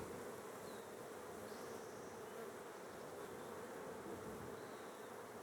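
Steady, dense buzzing of many honey bees at a hive, a continuous droning hum without pause, close up and with no talking.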